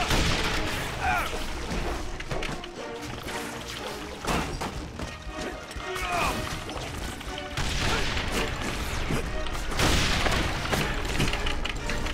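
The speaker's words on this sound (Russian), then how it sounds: "О, фейерверки!" Fireworks exploding in Spider-Man: Shattered Dimensions, a series of loud booms and crackling bursts at irregular intervals over game noise.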